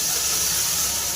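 Half a kilo of tomatoes hits frying onions in a pan for a sundakkai puli kuzhambu, a bitter turkey berry tamarind curry, giving a loud, steady, close hiss of sizzling with no talk.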